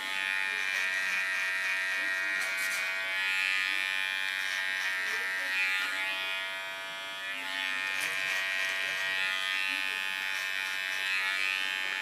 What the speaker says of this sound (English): First I shave up the underline.